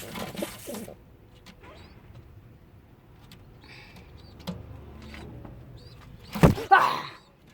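Pigeons in a loft giving soft, faint coos with a few distant rustles, then a louder close burst of cooing near the end.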